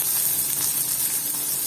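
Chopped onions sautéing in a pan for ponnankanni keerai poriyal: a loud, steady, close frying hiss that runs unbroken for the short stretch, with no voices.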